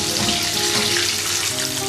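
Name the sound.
chicken wings frying in oil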